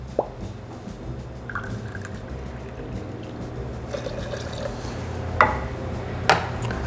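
Pineapple juice pours into a cocktail tin, a quiet liquid trickle with a few sharp metallic clinks and drips, close up and without speech.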